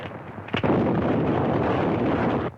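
Rapid bursts of machine gun fire in a war adventure film battle scene, a sharp crack followed by a sustained, rough roar of shots that runs for about two seconds before cutting off, loud and close.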